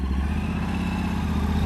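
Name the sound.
adventure motorcycle engine starting and running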